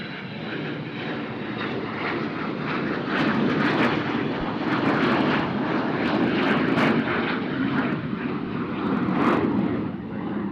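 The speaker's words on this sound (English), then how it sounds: "Sound like a F-16." A jet aircraft at Nashville International Airport roars past, loud and swelling through the middle before easing slightly, with crackling bursts in the rumble.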